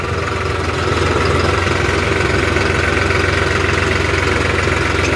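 A New Holland 3630 4wd Special Edition tractor engine runs steadily and loudly up close, a continuous dense drone with a faint low knock throughout and no pauses.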